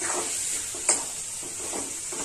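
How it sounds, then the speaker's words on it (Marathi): Spiced roasted eggplant bharit being mixed and mashed by hand in a pan, giving soft wet squelching and stirring sounds with one brief clink, steady and close, with no talking. "पूर्ण वांगी अशी मॅश करायची."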